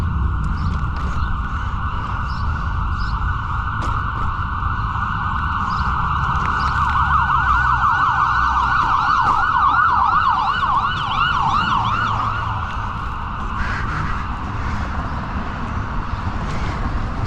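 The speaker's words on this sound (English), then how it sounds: "There's always sirens and stuff in this area right here at the center of town." Emergency vehicle sirens wail through a town center, a loud steady siren with a rising and falling yelp pattern over road traffic rumble, continuing for the whole stretch.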